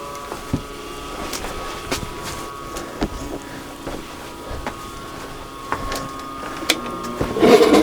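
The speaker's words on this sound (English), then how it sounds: "A serger, or overlock machine, has one single job, and that is to make the insides of seams look clean." A serger overlock machine stitches the seams of a wool blanket in a shop, running with a steady mechanical whir punctuated by regular clicking thumps and short bursts, fairly close and loud.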